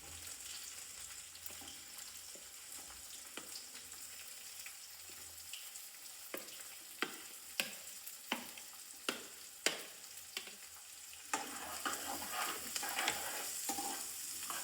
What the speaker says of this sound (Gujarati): એમાં ડુંગળી એડ કરીશું હવે.